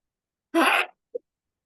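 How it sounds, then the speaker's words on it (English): A single sharp sneeze bursts out close by, followed by a tiny breathy sound, then silence. "I'm going to sneeze."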